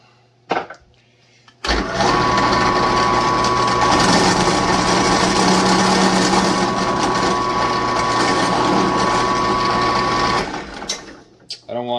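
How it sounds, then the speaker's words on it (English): A steady high whine of a power drill boring a hole while building a homemade vacuum table, starting abruptly and running continuously for about eight seconds before stopping, with a clunk beforehand. "So we're going to go ahead, get this on, and then get this drilled,"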